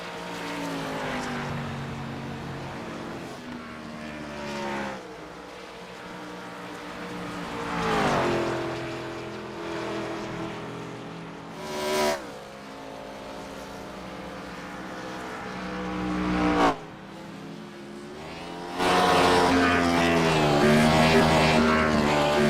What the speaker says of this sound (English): That's just Aaron Smith doing his burnouts here on the front stretch.